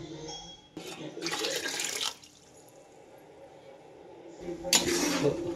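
Water splashes into a pot of jaggery pieces in two bursts, a short pour, a quiet pause, then another close splash, indoors in a home kitchen.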